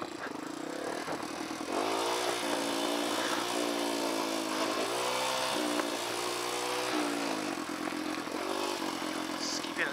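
A dirt bike rolls downhill in second gear through Red Rock Canyon, its engine droning close and loud with wavering pitch as the throttle shifts, accompanied by rattling and crunching from the rough trail.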